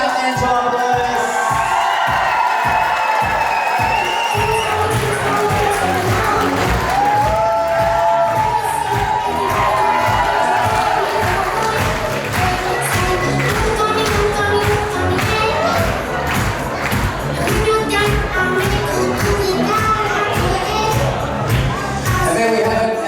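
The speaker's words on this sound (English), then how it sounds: "Let's give them another nice big round of applause" Wedding guests cheering and applauding the bridal party in a loud, sustained burst of clapping, whoops and crowd noise, with rhythmic thumping music underneath throughout.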